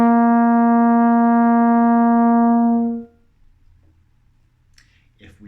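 Trombone holding one steady, sustained note for about three seconds, then cutting off into near silence with faint rustling after.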